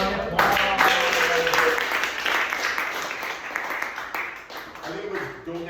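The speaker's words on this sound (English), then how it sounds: "Big round of applause." A class at an Aveda hair mastery course breaks into a round of applause, dense clapping filling the room steadily throughout while voices talk over it.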